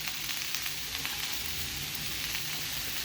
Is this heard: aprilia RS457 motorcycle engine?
no